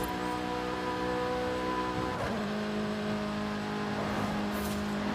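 A Corvette Z06 engine in Forza Horizon 5 drones steadily, then shifts gear and climbs in pitch again as it accelerates, with no talking.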